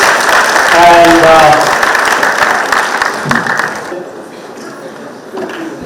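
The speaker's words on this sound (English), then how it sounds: "let us welcome him with a great round of applause" Crowd applause greeting a guest speaker at a yoga gathering, loud and sustained clapping from many people for about four seconds before fading to quieter room sound with scattered claps.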